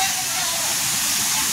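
Waterfall at Sirvel Mahadev temple pours in a dense, continuous hiss of falling water, loud and close, with no other sounds.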